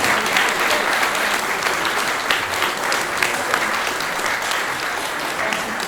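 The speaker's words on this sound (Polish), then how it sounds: "I należą się jeszcze brawa." Audience applause for award winners at a gala, a full, even wash of many hands clapping from a large seated crowd, sustained and loud throughout without pause.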